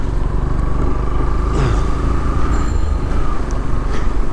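A Yamaha FZS V4 motorcycle on a test ride drones with a steady, loud engine hum and rushing wind noise, continuous and close throughout.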